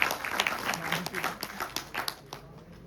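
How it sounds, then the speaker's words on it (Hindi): An audience at a blockchain program event in Jaipur claps with sharp, distinct hand claps in an uneven rhythm. It is moderately loud and fades out toward the end. "तालियां हो जानी चाहिए एक बार जोरदार तरीके से"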